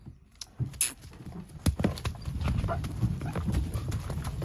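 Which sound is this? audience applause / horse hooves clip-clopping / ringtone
horse hooves clip-clopping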